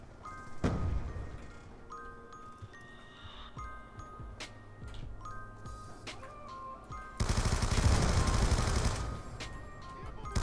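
Sporadic single gunshots crack over a busy Call of Duty: Black Ops 2 soundscape, followed by a dense burst of rapid automatic fire near the end.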